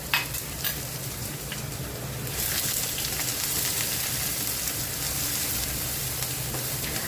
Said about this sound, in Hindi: और इसके साथ ही हम इसमें ऐड करेंगे प्याज।